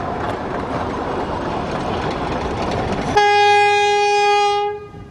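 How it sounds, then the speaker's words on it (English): A historic rail motor train, RM58, rumbles and clatters steadily along the rails crossing the Dighton River Bridge, then a loud, sustained horn blares over it before fading out. "historic footage of the last motor train, RM58, crossing the Dighton River Bridge"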